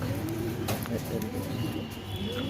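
Pigeons coo softly at a pigeon farm in Nabadwip, a low murmur of calls through a short stretch of quiet background noise, with a voice nearby.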